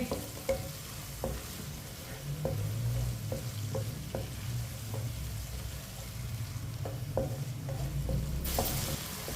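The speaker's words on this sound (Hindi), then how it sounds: "प्याज डाल लेंगे। अच्छी तरह मिक्स कर लेंगे।" Coarse-cut onion pieces fry in a pan, a steady sizzle broken by repeated knocks and scrapes of a spoon mixing them, close and fairly loud without any voices.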